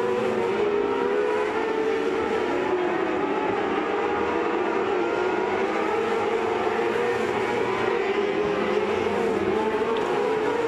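Several 600cc race cars roar around a dirt oval track at a feature race, a steady, dense engine drone that stays loud and continuous throughout without breaks.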